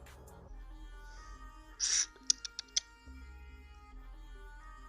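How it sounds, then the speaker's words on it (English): A handful of quick computer-keyboard taps click in close succession midway through an otherwise quiet room with a low hum, faint and brief. "Sure, I'm typing in the right thing."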